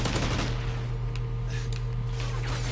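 Loud, continuous automatic gunfire crackles without pause during a Search and Destroy video game match, a dense sustained barrage with a steady low hum beneath.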